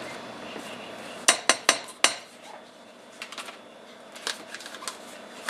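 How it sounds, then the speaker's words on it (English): Measured hard oils such as shea butter being scooped into a crock pot heating on high, a cluster of sharp utensil clinks against the pot followed by softer scattered taps and scrapes, close by. "I'm adding my hard oils that I've already measured out."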